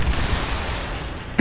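A grenade blast rumbles in the Destiny video game, a loud low boom sustained with a heavy tail and a second sharp burst at the very end.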